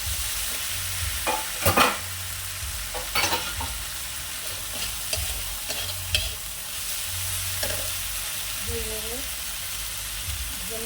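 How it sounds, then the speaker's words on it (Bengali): Fish and shrimp fry in a pan with a steady sizzle, interrupted by intermittent scraping stirs. Quiet talk is heard faintly underneath. "এর সঙ্গে চিংড়ি মাছটা একসঙ্গে ভালো ভাজাও হবে আর কষানো হয়ে যাবে"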